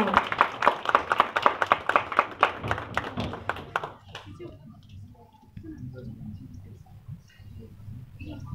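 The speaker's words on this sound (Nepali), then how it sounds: "कृपया जोरदार तालीका साथ यस उद्घाटनलाई अझ रमणीय बनाइदिनु होला।" An audience at an inauguration ceremony at Nepal Gadget Frame claps in a quick, rhythmic burst of hand claps that lasts a few seconds and then fades, followed by quieter murmuring voices.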